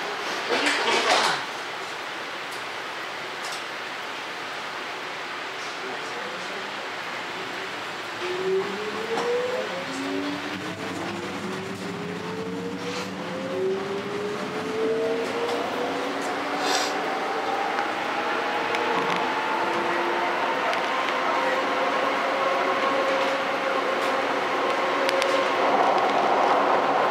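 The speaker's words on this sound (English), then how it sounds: "The doors are closing. Train departing." MAX Type 2/3 light rail car doors sliding shut with a brief clunk, then the train departing as a rising electric motor whine climbs in pitch over the steady rumble of rolling wheels.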